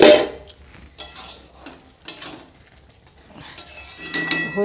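Metal lid lifted off a cooking pot of egg tadka, with a sharp clank at the start followed by scattered clinks and scrapes of cookware, moderately close, no voices.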